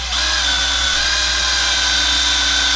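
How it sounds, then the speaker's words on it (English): A power drill whines at a steady high pitch, continuous and close, while boring a hole into a part from an RC Jeep's drivetrain. "See if we can drill a hole in it"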